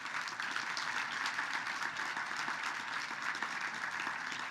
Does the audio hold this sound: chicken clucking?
no